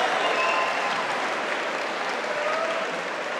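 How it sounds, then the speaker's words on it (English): An audience at a World Muay Thai title event applauds steadily. The clapping is dense and continuous at an even loudness throughout, with no break. "give a round of applause for the belt as the lady carries it around"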